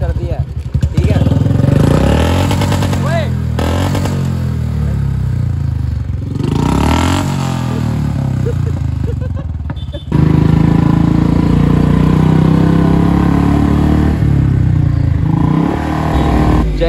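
A repaired Royal Enfield Bullet motorcycle engine runs close by with a loud, continuous thumping idle and a few rises in revs, while people talk over it.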